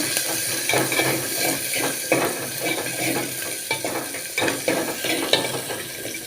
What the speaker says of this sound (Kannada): ಒಗ್ಗರಣೆಗೆ ಈರುಳ್ಳಿ ಹಸಿಮೆಣಸು ಹಾಕಬೇಕು ನಂತರ ಅದನ್ನು ಬಾಡಿಸಿಕೊಳ್ಳಬೇಕು